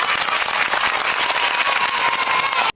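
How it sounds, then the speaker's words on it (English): Round of applause, dense and steady with no gaps, fills the whole stretch before cutting off abruptly at the end. "give me a round of applause"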